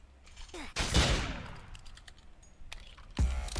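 A gunshot in the video game Murder Mystery 2, a sharp loud bang followed by a trailing decay, then another abrupt shot near the end, close and prominent, with no talking.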